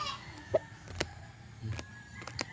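A yellow-legged rooster clucks in short, sharp bursts at close range, with a couple of brief calls spaced across a few seconds against faint farmyard background.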